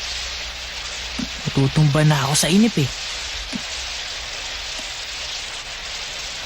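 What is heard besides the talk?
rain falling in cartoon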